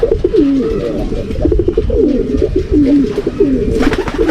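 Racing pigeons in the rain give repeated soft, rolling coos that sit close and clear, with one bird after another cooing over a steady patter of rain and a faint brush of wings toward the end.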